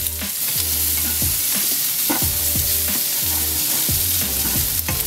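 Pancetta fries loudly in a pan for spaghetti carbonara, producing a dense, even sizzle and crackle punctuated by regular scraping strokes of stirring every second or so.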